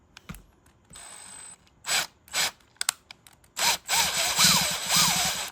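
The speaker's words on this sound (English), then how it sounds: "So we got our hole enlarging just a little." A power drill enlarges a hole in a Toyota Land Cruiser 250 center console, with short bursts of whirring separated by pauses, then a longer loud run with a rising and falling motor pitch, close by.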